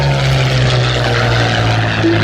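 A propeller-driven fighter aircraft, a 1935-era design flying at an RAF Cosford airshow, drones steadily with a loud, continuous engine roar and low harmonic hum throughout.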